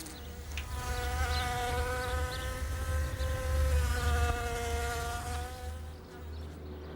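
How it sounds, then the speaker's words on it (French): A founding queen wasp just out of hibernation buzzes close by in a sustained, droning whine that swells and fades slightly over several seconds, alone without talk. "Cette guêpe-là n'est pas ordinaire. C'est une femelle fondatrice, née l'été précédent."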